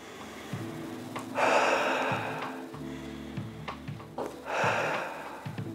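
Two slow, deep breaths, each a long airy inhale and exhale, used as a calming exercise before entering a swimming pool. Soft steady background music plays underneath, and no one speaks.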